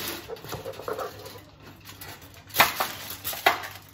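Raw ribs dropped into a foil-lined tray give a few soft crinkly thuds and light rustles, close and fairly quiet, with two sharper foil crackles near the end.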